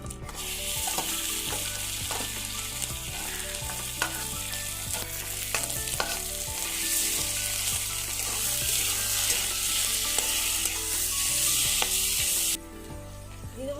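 Spiced boiled cauliflower filling for parathas fries in a pan with a loud continuous sizzle, punctuated by regular scrapes and taps of stirring over a low steady background tone.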